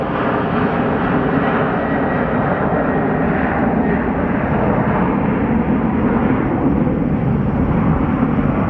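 Steady broadband roar of an airliner engine at Sky Harbor Airport, a continuous loud rumble holding for several seconds with no voices over it.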